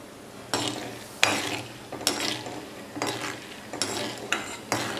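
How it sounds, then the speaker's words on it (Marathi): Roasted chana dal frying in oil for thin poha chivda, with a soft sizzle under repeated scraping and stirring strokes of a metal spoon against the pan, about one stroke per second, up close. "आता या तेलामध्ये आपण वन फोर्थ कप डाळ्या घेतले होते ते आपण छान तळून घेणार आहोत"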